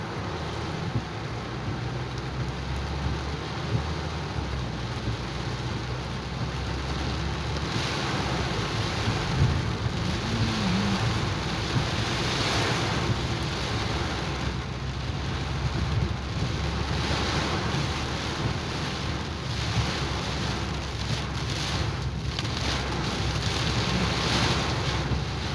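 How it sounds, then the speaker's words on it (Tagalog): Very heavy rain pouring down outdoors while driving on a road, a dense, steady roar of falling water with a gusty rushing texture that continues without a break and no talking. "Ulan."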